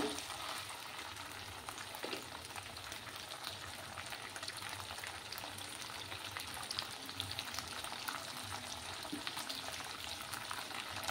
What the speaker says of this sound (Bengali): মাছগুলো ফ্রাই হতে থাক।